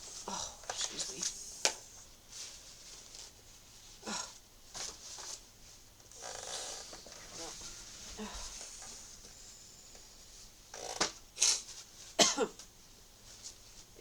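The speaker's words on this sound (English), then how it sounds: "I gotta blow my nose." Person blowing their nose at home, with repeated short nasal snorts, coughs and throat clearing at irregular intervals, close and moderately loud, clustered near the start and again toward the end.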